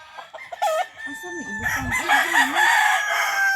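Rooster and chickens, including frizzle and fighting cock birds, crowing and clucking close by: a drawn-out crow with tonal wavering, surrounded by short clucks and barnyard noise.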